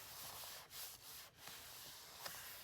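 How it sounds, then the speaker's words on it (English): Quiet, close scratchy rubbing of a hand pressing a glued paper pocket flat, several back-and-forth strokes with brief pauses between them. "Rub over it a few times."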